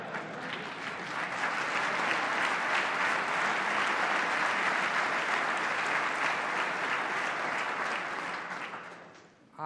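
A large audience at a governor's state of the state address breaks into sustained applause, a dense, even roar of clapping that holds for nearly ten seconds before fading at the end.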